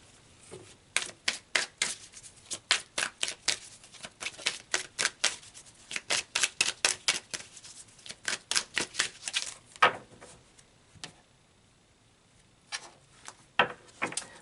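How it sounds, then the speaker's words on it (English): Tarot cards being shuffled and pulled, a rapid run of crisp riffling snaps and flicks for about ten seconds, then a pause and a few sparse card flips near the end, with no talking. "So let's pull some more cards."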